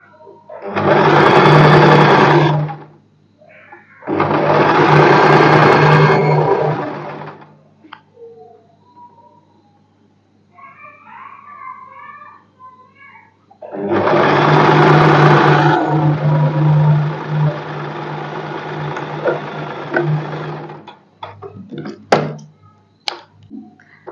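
A sewing machine stitches a strip for a padded princess-cut blouse in three loud close bursts of rapid whirring, with quiet handling sounds and soft talk in the gaps between runs.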